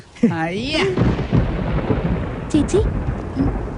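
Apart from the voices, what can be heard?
thunder before rain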